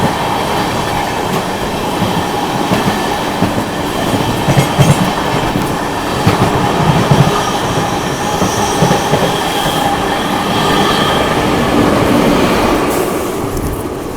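Two Amrit Bharat Express trains, one the Gaya–Delhi service, run side by side on parallel tracks, filling the space with a loud, continuous roar of wheels on rail, rhythmic clatter and occasional squeals.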